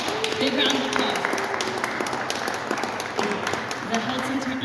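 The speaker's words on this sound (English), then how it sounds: "big round of applause" Applause from the audience at a Codman Square community meeting, a steady wash of many hands clapping at moderate distance, with a voice speaking over it.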